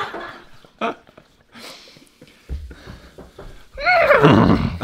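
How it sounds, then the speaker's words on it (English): A horse neighs in two bursts, a short whinny early on and a loud, descending drawn-out neigh at the end, with quieter rustling and shuffling between them. "Horse."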